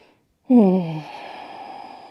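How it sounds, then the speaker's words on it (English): One audible breath in child's pose during yoga, a soft sighing exhale that starts suddenly after a short silence and fades into quiet room tone. "Taking a couple of breaths in here."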